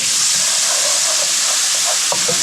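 Medium sweet onion dropped into a steak pan with a little oil, giving a steady loud hiss and sizzle throughout with faint crackles, close and continuous, no talking.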